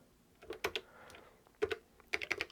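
Keys tapped on a ZX81 computer keyboard, a few soft, close clicks in irregular short bursts with quiet gaps between, ending in a quicker cluster of presses.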